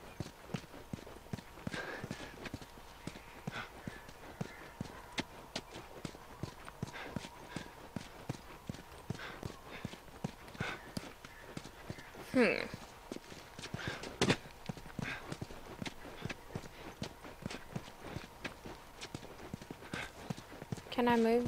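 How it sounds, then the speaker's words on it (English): Horse hooves clip-clop steadily at a walking pace in The Last of Us, a continuous rhythmic patter throughout with game sounds and occasional voices over it. "Horse."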